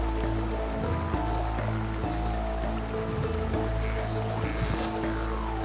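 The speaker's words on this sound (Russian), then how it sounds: "Слышно, как вода течет подо льдом." Water running under the ice of the Nura River in winter, a steady close gurgling and trickling that continues throughout without speech.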